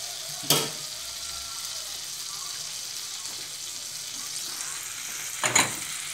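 Butter and achiote paste frying in a pan, a steady low sizzle running throughout, broken by two sharp utensil clacks, one near the start and one near the end.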